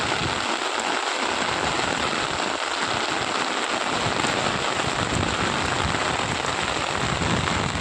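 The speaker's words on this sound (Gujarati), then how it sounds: "પવન સાથે ભાઈ વરસાદ ચાલુ જ છે" Heavy rain driven by wind pours down over farm fields in Banaskantha, a dense, loud, unbroken roar of falling water with gusty rumbling underneath and no voices.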